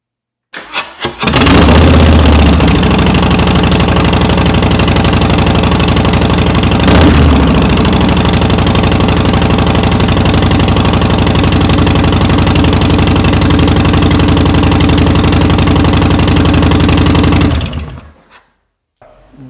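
Harley-Davidson Softail with Vance & Hines exhaust and standard baffles starts and settles into a loud, throbbing, lumpy idle close by, holding steady for about fifteen seconds before shutting off.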